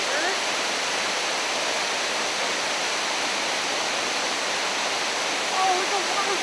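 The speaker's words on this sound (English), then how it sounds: "Oh, it's a waterfall." A cartoon waterfall in a desert setting, from The Simpsons, gives off a steady, even rushing roar of falling water that continues unbroken throughout.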